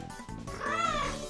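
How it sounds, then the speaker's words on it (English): A cat meows once in a video game scene, a drawn-out, rising and falling yowl that sounds close and loud and stands alone with no talk over it. "the cat twisted its body away and fell flat on the ground"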